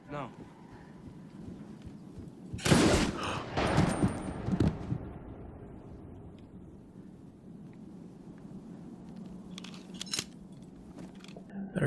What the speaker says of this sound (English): We're gonna hear gunshots.